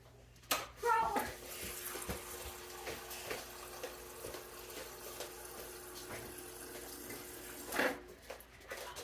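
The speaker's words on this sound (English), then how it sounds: "I'm gonna do 3 cups of water." Water is poured into a cooking pan with ground turkey for taco rice bowls, a soft steady splash running under quiet talk, with a voice briefly audible.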